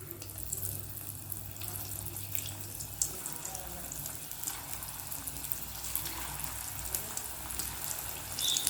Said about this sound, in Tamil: இப்போ ஒவ்வொரு பால்ஸாக போட்டு ஃப்ரை பண்ணிக்கலாம்